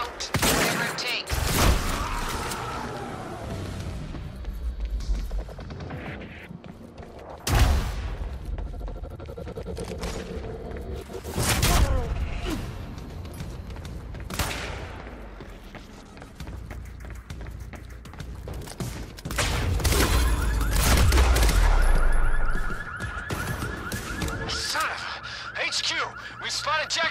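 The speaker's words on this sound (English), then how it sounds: "I'm getting reports of gunfire in the underground parking." Gunfire in the video game Quantum Break plays as bursts of shots and heavy booms that rise and fall among game sound effects, with voices talking over much of it.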